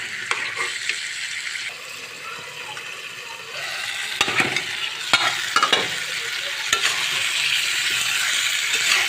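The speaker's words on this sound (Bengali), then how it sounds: "কুমড়াগুলো দিয়ে আমি ভালো করে কষিয়ে নেবো" Sweet pumpkin pieces stir-fry in hot oil for a Bengali pumpkin and rui fish dish, a steady loud sizzle broken by several sharp spatula scrapes and stirring clatters against the pan, with no talking.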